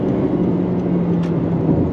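A 2023 Honda HR-V accelerates on a highway over ripped-up pavement, giving a steady, close cabin roar of road and engine noise with a low hum throughout.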